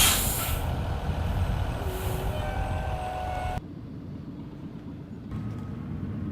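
A school bus comes to a stop with a loud air-brake hiss, followed by a sudden drop to quieter idling and a brief tonal whine, with no talk.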